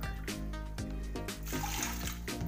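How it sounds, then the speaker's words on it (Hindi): A glass of water is poured into a bowl of tamarind while making sweet-and-sour imli chutney, a steady close splashing pour under light background music. "अंदर मैंने चार ग्लास पानी डाल दिया है।"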